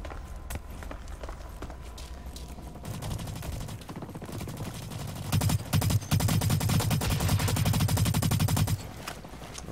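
Gunfire in the shooter Blacklight Retribution, dense rapid bursts and scattered shots that build into a loud sustained fusillade around the middle, with running footsteps mixed in and no talk.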